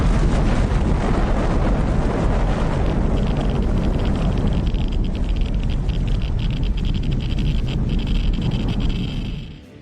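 A sustained, roaring blast of loud rumbling noise from a torpedo explosion, dense and continuous, fading away at the very end.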